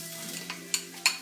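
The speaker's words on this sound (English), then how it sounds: "See that sizzle?" Eggplant sizzles as it fries in a pan, a soft steady hiss broken by two sharp clinks of stirring near the end, close and fairly quiet.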